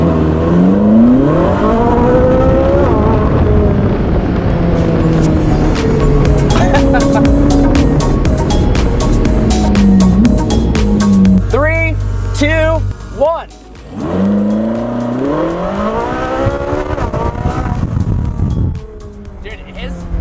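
A Ferrari and an electric scooter launch side by side in a drag race, engine roar rising and falling through gear changes with loud wheel spin, while people talk and shout excitedly over the noise throughout.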